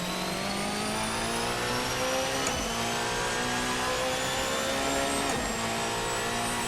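A loud, buzzy V4 engine of a Protech P91 Hybrid Evo race car in Assetto Corsa holds steady revs, with two brief dips as gears shift, continuous and close throughout.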